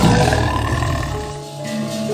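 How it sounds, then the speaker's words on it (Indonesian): Deep, loud tiger roar close by, a single sustained growling bellow that trails off into a lower rumble. "Itu suara harimau."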